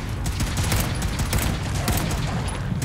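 Gunfire in Fallout 4, a dense, loud rapid volley of shots layered over one another, continuous for a few seconds and close.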